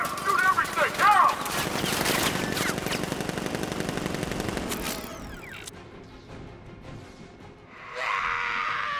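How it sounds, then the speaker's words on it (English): Gunfire in the video game Batman: Arkham Knight: loud sustained automatic bursts and rattling shots fill the first half, then fade into quieter mechanical noise before a brief harsh burst near the end. "Open fire! Shoot everything! Now!"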